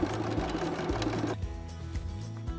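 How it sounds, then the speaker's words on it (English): A sewing machine stitches down a fabric patch in a steady rapid whir, close and clear, pausing briefly before running again with rhythmic needle pulses. "I'm going to continue to sew my patch down."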